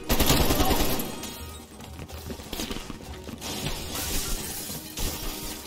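Rapid automatic gunfire in the Call of Duty Black Ops Cold War campaign, a dense continuous rattle of shots with metallic clatter, loudest at the start and carrying on steadily throughout.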